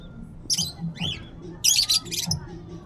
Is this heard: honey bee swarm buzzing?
no